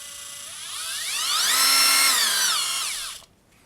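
A Bosch GDR 18V-160 cordless impact driver spins up freely on its variable trigger, its whine climbing smoothly in pitch, holding at the top, then winding back down before cutting off, close and with no one talking.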